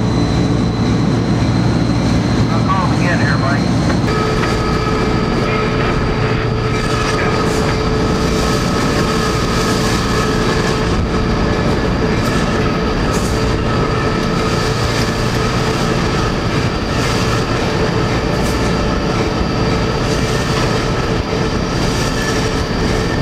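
An Amtrak California Zephyr train in 1993 rumbles along its rails, loud and continuous, with a heavy low roar, rattling carriages and occasional squealing from the wheels.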